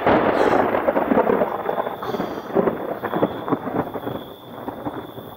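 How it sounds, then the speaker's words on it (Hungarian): Nearby thunder in a lightning storm rolls as a loud, continuous rumble that swells and fades, with a steady hiss of rain and some wind buffeting the microphone. "ahogy villámlik, egyből dörög. Ez közel van."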